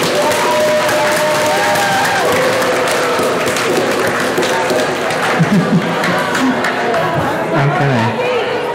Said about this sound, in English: Can we get another round of applause for Brandi and Mario?